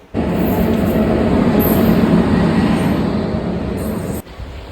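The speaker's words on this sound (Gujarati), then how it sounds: "ત્યાં થોડીક જ વારમાં આવી ગઈ ટ્રેન" A loud, steady rumble of a train arriving at a railway station, with a rattling roar and high squealing tones, cutting off abruptly near the end.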